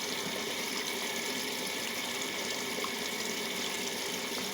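A washing machine starts a pre-wash cycle and draws in water, giving a steady, continuous rush and hiss of filling water close by, with no talking.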